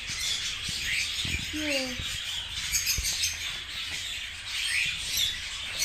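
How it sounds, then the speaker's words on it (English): A noisy yellow bird gives a few short chirping calls near the middle, fairly close but not loud, set against a constant hiss of ambient noise, with a person briefly speaking. "It's noisy bird, isn't it?"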